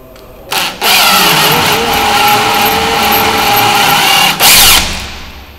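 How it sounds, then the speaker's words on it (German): A power tool whirs steadily for several seconds, a threading tap cutting threads into a drilled hole in metal up close while a door closer is installed, with brief louder surges at start and end. "jetzt nehme ich hier so einen Gewindeschneider"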